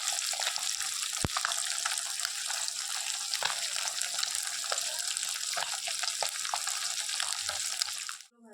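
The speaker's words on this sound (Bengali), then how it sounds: "মাছ ভাজা চলছে আর কি।" Taki fish fry in hot oil in a pan, a close, constant sizzling hiss sprinkled with small pops and spits, steady until it fades away at the very end.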